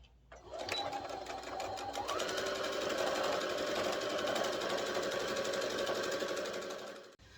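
A domestic sewing machine runs a hem stitch on fabric for a small bunny-shaped candy bag, rising into a loud, steady, close whirring run that lasts several seconds before cutting off.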